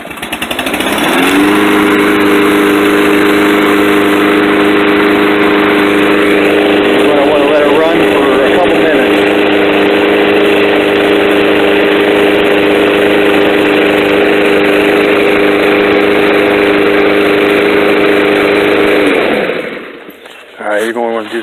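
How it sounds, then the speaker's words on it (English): Snapper self-propelled 21-inch front-wheel-drive lawnmower engine running steadily and loudly for about eighteen seconds after starting, a constant droning hum that cuts off near the end. "the second thing you want to do is start your mower"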